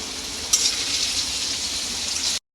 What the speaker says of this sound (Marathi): कांदा टाकल्यानंतर थोडंसं परतूया आता हे कांदा हे कांदा थोडासा हलका लाल करूया